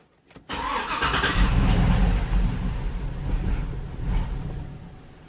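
A GMC Yukon Denali cranks and catches with its fuel pump relay removed, a sharp click followed by a loud, close engine run that holds steady for several seconds, then begins to falter.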